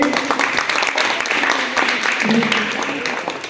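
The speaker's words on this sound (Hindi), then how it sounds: "जोरदार तालियां संपादक जी के लिए।" Audience at a school motivational talk applauds a newspaper editor, a close, steady patter of many hands clapping that slowly fades, with voices speaking over it.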